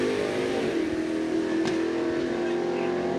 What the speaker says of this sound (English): Nice launch from both drivers.